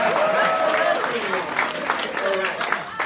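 Audience applause at a New York City mayoral forum on affordability, a steady wash of clapping over about three seconds with voices mixed into the crowd noise.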